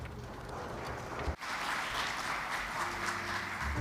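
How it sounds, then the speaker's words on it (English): A symposium audience applauds steadily, a dense wash of clapping hands that holds at even loudness, with one brief dip partway through. "Once again, a big round of applause."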